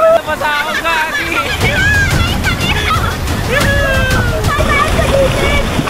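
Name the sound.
rushing river splashing during a river ride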